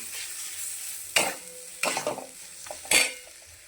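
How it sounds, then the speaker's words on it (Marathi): Chopped tamarind is mixed into fried green chilies in a pan for tamarind chutney, with three distinct scraping stirs over a faint background sizzle, close up, with no voices. "बारीक केलेली चिंच याच्यामध्ये टाकून घेऊया चांगले मिक्स करूया"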